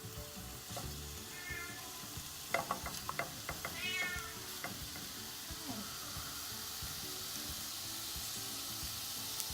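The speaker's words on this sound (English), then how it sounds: "So what we're going to do is fry these mushroom caps." Portobello mushroom caps fry in a pan with a soft, steady sizzle, while a cat meows several times close by in the middle of the clip.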